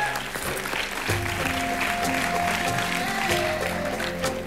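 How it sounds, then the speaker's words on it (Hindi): Applause from a comedy show studio audience, a steady, moderately loud wash of clapping lasting several seconds, with music playing underneath. "मैं चाहूंगा कि आनंदी और गंगा के लिए जोरदार तालियां"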